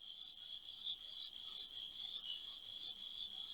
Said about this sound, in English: This is one of the common toad which makes this kind of sound.